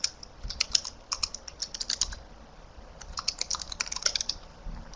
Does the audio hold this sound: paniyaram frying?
no